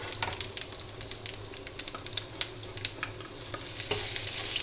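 Cumin and nigella seeds crackle in hot oil, a soft continuous sizzle broken by scattered sharp pops and light stirring scrapes, close by and with no voices.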